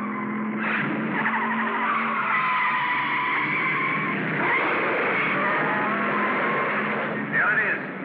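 Two race cars running neck and neck on a track in an old Hollywood racing film, a steady, loud tire screech and engine roar with a sharper squeal near the end, heard through narrow, dated sound.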